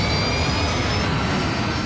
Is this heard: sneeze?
no